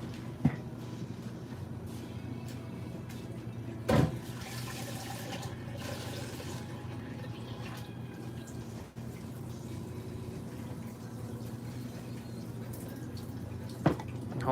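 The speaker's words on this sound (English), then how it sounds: "So I'm just gonna soak it in water here so it can be removed easily from the cast." Cold water pours over waxed-up dentures on a dental cast in a lab sink: a steady, close running-water wash with a few sharp clicks, and no voices.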